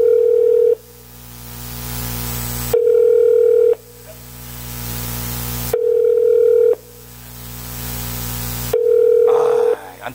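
A telephone call tone sounds during a live church youth radio phone call, repeating as loud, steady tone bursts about every three seconds with quiet gaps between them and no talking.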